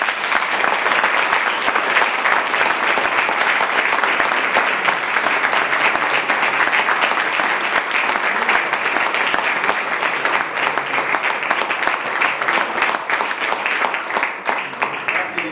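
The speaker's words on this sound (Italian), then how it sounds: "ti facciamo sentire l'applauso." Sustained audience applause at a public talk on coal power plants, a dense, steady roar of many hands clapping that holds at full strength for about fifteen seconds before easing slightly at the end.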